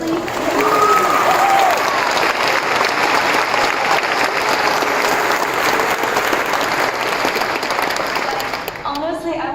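Graduation audience applauding the seniors, a dense, loud wash of many hands clapping that holds steady for nearly ten seconds before tapering off at the end, with some cheering and voices mixed in.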